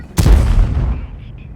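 A tank cannon in World of Tanks fires a high-explosive shell: one sharp, heavy boom followed by a rolling decay lasting about a second, loud and close, with no talk.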